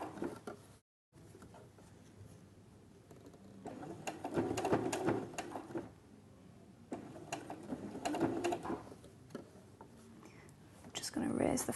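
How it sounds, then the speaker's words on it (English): A Brother sewing machine fitted with an adjustable binder foot runs in bursts of soft mechanical whirring, slowing for a curve, with a person talking throughout. "when you're going around the curve, you want to slow down the speed of the machine"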